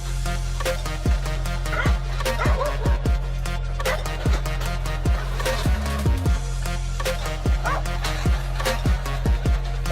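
Nine dogs bark over each other in a loud, busy chorus, with sharp repeated woofs and yips throughout, fairly close.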